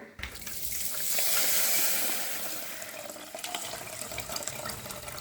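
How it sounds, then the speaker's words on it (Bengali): Water runs steadily into a bowl of fried lentils being rinsed, a close, continuous gush and splash that swells and then settles, with no one speaking. "ভাজা ডালটাকে একবার জল দিয়ে হালকা করে ধুয়ে শুধু ওপরের নোংরাটা ফেলে দিচ্ছি।"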